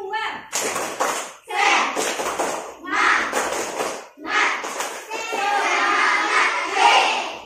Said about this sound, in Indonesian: Tepuk semangat 2.